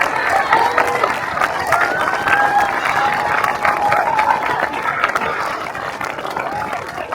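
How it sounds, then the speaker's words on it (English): Steady applause from an audience fills the whole stretch, a dense wash of clapping at even loudness with faint crowd murmur mixed in. "So give them a massive round of applause."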